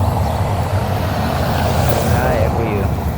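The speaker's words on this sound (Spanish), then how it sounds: "Escuchan los pajaritos y los carros nada más" Cars and trucks pass along a quiet town-centre street in Castelo Branco, Portugal, a loud steady engine and road rumble close by, with a voice speaking over the traffic.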